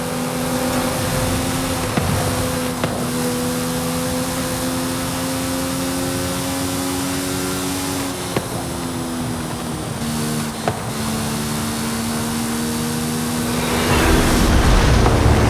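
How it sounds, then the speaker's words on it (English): A cargo plane roars in a Forza Horizon 5 race alongside an AMG-1 car, a loud, steady engine drone with shifting tonal whines that swells near the end, heavy and continuous with no talk. "that is the last inbound cargo flight racing neck and neck with an AMG-1"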